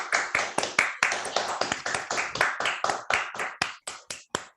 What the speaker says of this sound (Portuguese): Mais uma salva de palmas, né?